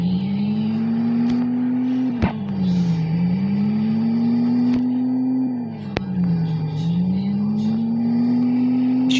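A Porsche engine drones at a steady, near idle and rises and falls in pitch as it is revved, with a few sharp exhaust pops cracking out over the hum.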